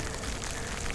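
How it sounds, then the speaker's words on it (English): Rain falling during a cold night bike ride, a steady dense patter and hiss that fills the whole second without a break, close and fairly loud, with no voices. "If it was just a little bit colder out here, this wouldn't be rain."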